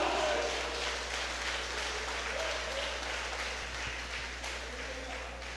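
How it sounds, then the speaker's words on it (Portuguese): A church congregation claps together during a Portuguese-language sermon, a dense, steady wash of applause that fills the hall from start to finish and fades only slightly at the end. "aplaude a Jesus agora."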